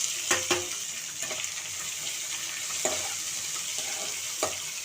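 Onions, curry leaves, mint and green chillies fry in hot oil for chicken sukka, a steady close sizzle with a few sharp crackles and stirring clinks scattered throughout.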